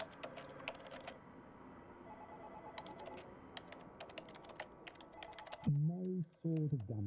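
Rapid clattering keystrokes from a clunky keyboard in the video game Arma 3, a steady stream of sharp clicks that stops near the end as a voice starts talking.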